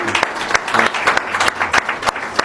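An audience applauds at a certificate handover for a children's heart charity, giving dense, continuous clapping close by that carries steadily throughout.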